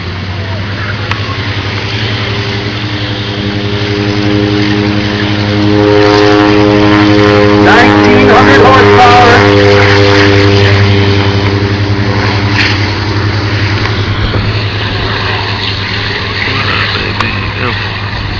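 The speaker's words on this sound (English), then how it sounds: "And the Navy Helldiver is in the sky." A Navy Helldiver propeller warplane flies overhead, its steady loud engine drone with strong harmonic tones swelling as it passes and then easing off, with a faint voice under the engine noise.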